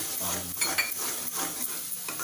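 Ground spices with turmeric, coriander and salt roasting in a pan while being stirred, making a continuous close scraping sizzle with rhythmic swishes of the spoon and no voices.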